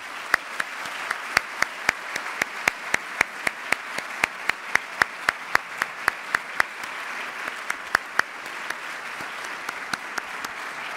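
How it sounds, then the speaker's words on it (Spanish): Sparse, scattered clapping from an audience at a university engineering school graduation ceremony, honoring the event's godmother; individual sharp claps stand out across a steady wash of applause for about eleven seconds, with no talking. "Un aplauso para ella, por favor."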